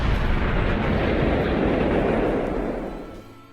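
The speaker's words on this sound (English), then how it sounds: "Yep, there's the fireworks." Loud, continuous rumbling burst of fireworks from an Apple Vision Pro app, a dense booming roar that holds steady for about three seconds before fading out.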